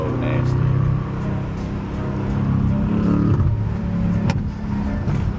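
BMW M850i coupe with a downpipe and tuned 4.4 liter twin-turbo V8 accelerates hard on a city drive in Philadelphia, a steady loud engine drone with low rumble and rising pull heard from inside the car.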